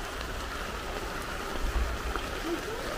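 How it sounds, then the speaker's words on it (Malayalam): Light rain falling around a house after two dry days, a soft, continuous patter of drops on surfaces with a faint low rumble underneath. "ചെറിയൊരു മഴയൊക്കെ വരുന്നുണ്ട്."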